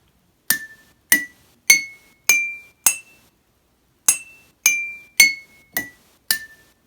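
Five drinking glasses holding different water levels are struck one at a time, giving bright ringing clinks, each a distinct pitch, heard alone as two rising and falling runs of five strikes with a short pause between.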